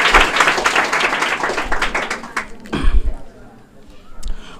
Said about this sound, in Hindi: जोरदार तालियां इसके लिए बजाएंगे